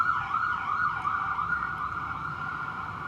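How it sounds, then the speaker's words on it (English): A continuous wailing emergency siren rises and falls steadily throughout on a New York street, fairly loud, with faint road traffic rumbling underneath. "Sorry, sirens."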